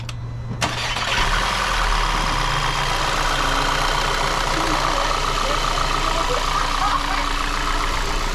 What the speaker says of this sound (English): now we will start the car and make sure there's no leaks